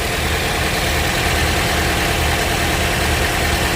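Car engine idling steadily right after a jump start, a loud, close, even mechanical hum with a low rumble and constant vibration and no change in pitch, and no voices.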